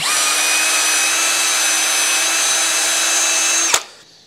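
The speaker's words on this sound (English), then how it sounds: "my other drill here's got the hosel cleaner. It's just a little wire cleaning brush" A power drill spins a small wire brush cleaning a golf club hosel in a loud, steady high-pitched whir for several seconds, then stops with a click and winds down.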